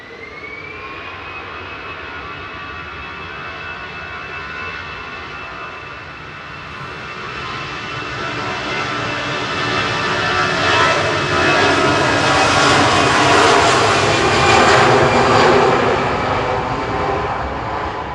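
A Dash 8 turboprop taxis at Manchester Airport, its engines producing a loud, sustained whine with a steady high tone that swells as the aircraft nears, heard outdoors with no talk.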